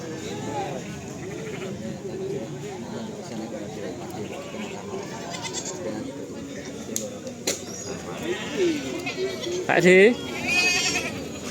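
Goats bleat at a cattle market in Tuban among Jawa Randu stock, including a five-month-old female. A few nasal bleats stand out near the end over steady crowd chatter and nearby talking.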